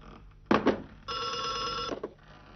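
Telephone ringing in a guest house comedy play, a short clunk followed by one sustained electric bell ring that cuts off abruptly, loud and near with no talk.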